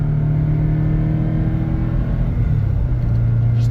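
Subaru 2.5RS engine during light acceleration pulls, a close, steady low droning rumble with a rising engine note that dips briefly and climbs again, heard from inside the car with no talk.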